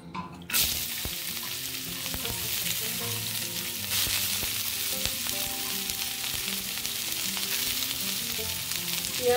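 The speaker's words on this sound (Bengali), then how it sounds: "একটু লবণ দিয়ে আমি সবজিগুলোকে ভেজে নিচ্ছি" Vegetables sizzle steadily in a kadai with cardamom, cloves and a little cinnamon for fried rice, a dense close frying hiss with scattered stirring scrapes and clicks throughout.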